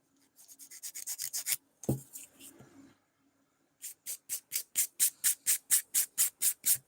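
Acrylic nails being filed by hand, a close, steady back-and-forth rasping in quick rhythmic bursts, with a pause and some clatter partway through before the strokes resume.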